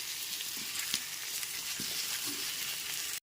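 Turmeric and Kashmiri chili powder are stirred into pumpkin frying in a pan for a vegetarian panch phoron dish, giving a steady close sizzle with soft scraping strokes and no talk.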